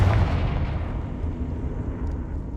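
Confringo fire spell blast in Hogwarts Legacy: a heavy, low rumbling burst hits at the start, then slowly fades into a dull, dark rumble with no voices.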